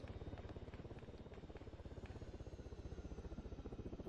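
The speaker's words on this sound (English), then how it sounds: "Can hear a helicopter coming in" Helicopter approaching in the military shooter Arma 3, a faint, steady rhythmic rotor thump with a low engine drone underneath, distant and low in level, with a few scattered clicks and clatter on top.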